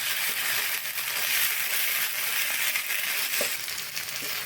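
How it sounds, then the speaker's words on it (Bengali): Fish fries in hot oil in a pan with a continuous bright hiss and crackle, a few soft stirring knocks of a spatula, close by and without talk. "আমি এটা নাড়াচাড়া করে একেবারে ভাজা ভাজা করে নিয়েছি"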